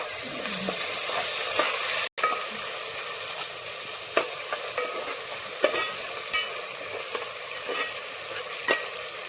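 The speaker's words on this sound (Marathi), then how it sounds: "आलं लसूण कोथिंबीर मिक्स केलेली पेस्ट टाकायची" A ginger, garlic and coriander paste fries with chicken in hot oil, giving a continuous close hiss broken by small crackles and pops, with one brief dropout partway through.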